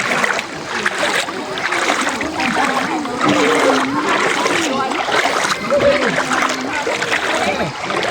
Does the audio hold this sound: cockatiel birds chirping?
no